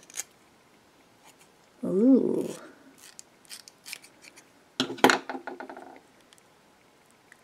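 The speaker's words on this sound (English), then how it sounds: "Let me try these new little scissors here." Small scissors snip into a squishy food toy, a few crisp cuts spread out, with a short voiced exclamation near the start and a louder burst of snipping and crinkling near the end; close and fairly quiet.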